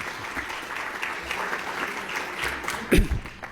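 An audience at an architecture lecture applauds after the talk, a close, dense burst of clapping with faint voices mixed in.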